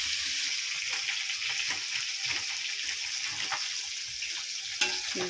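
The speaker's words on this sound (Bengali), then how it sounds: "মাছ ভাজা হচ্ছে" Fish fries in a pan of hot oil with a continuous close sizzle and spatter, a few stirring scrapes, and a sharp clank of a utensil near the end.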